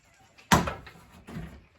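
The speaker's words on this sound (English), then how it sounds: "pop the door panel off" A sharp pop as a door trim panel is pried off a Geo Tracker door, followed by a brief rattling clatter and a second softer scrape, close and fairly loud in a quiet space.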